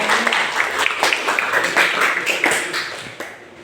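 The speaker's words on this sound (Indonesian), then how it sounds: "tepuk tangan untuk kelompok 1 dari." Applause from a classroom audience for a student group that has just finished presenting, a scattered burst of clapping that is fairly close and fades near the end.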